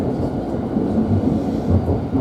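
A Thameslink Class 700 train runs between London Blackfriars and Finsbury Park, heard from inside as a loud, low rumbling roar with uneven rattles and thumps, continuous and close.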